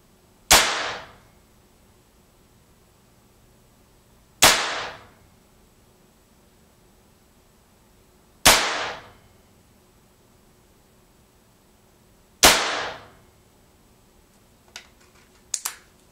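A Sam Yang .357 air rifle firing JSB pellets from a tank filled to 2900 PSI, giving four loud, sharp cracks about four seconds apart, each one decaying quickly, followed by faint small clicks at the end.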